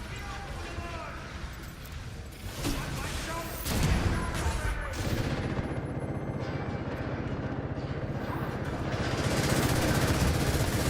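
Gunfire in a video game sounds as repeated bursts of shots amid rumbling game noise, with a voice talking over it now and then.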